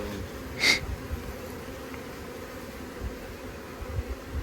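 Honeybees at an opened hive, with a low background hum and one short, louder buzz passing close by early on.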